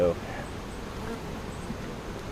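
Honey bees buzzing during a swarm relocation near blooming cornfields, a steady dense hum that stays even throughout the short stretch.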